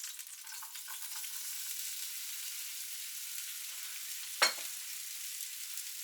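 Onions frying in leftover sausage oil in a pan give a faint, steady sizzle throughout, with one brief sharp clink or scrape partway through, quiet and without talk.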